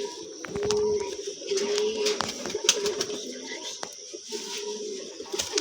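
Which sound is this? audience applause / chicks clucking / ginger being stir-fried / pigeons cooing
pigeons cooing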